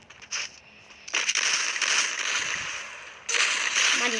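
Gunfire in a shooting video game comes as sharp crackling bursts, a short one followed by longer sustained volleys, moderately loud with little talk.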